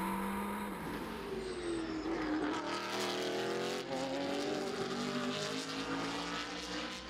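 Race cars in a long-distance race roar past, engines loud and close with rising and falling pitch as they shift gears and pass, a continuous dense mechanical drone throughout.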